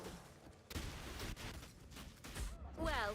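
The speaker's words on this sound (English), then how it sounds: "That was a big explosion." Big explosion in Path of Exile, a series of heavy thumping blasts and crackling bursts building to a loud roaring boom at the end, with a voice reacting briefly amid the chaos.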